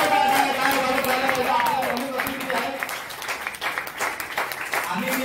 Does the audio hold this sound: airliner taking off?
no